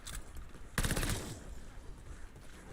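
PPSh submachine gun firing in the World War II shooter Call of Duty Vanguard, zombies mode: a loud, dense burst of rapid automatic fire breaks out after a brief lull, then trails off into scattered shots and game noise.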